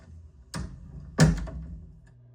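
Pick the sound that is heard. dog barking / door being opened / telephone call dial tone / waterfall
door being opened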